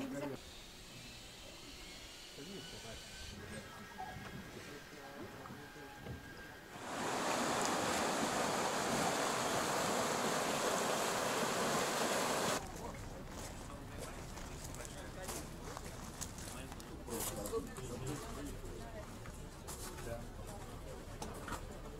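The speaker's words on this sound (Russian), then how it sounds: "Мы приехали на водопад Ахинкоски." Ahinkoski waterfall in Karelia, a constant broad roar of rushing water that swells much louder for several seconds in the middle before settling back, with a voice speaking over it.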